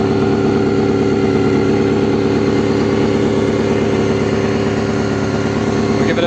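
A 1988 Honda CBR250R MC19 motorcycle engine idles steadily, a loud, close, even high-revving four-cylinder burble with a smooth rapid pulse and no voices.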